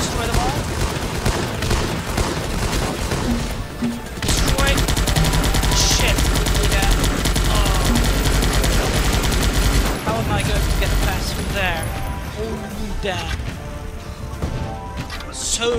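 Sustained gunfire and machine-gun bursts rattle through a Guns Up! strategy battle, with crashing impacts and a loud dense stretch in the middle, a voice talking over parts of it.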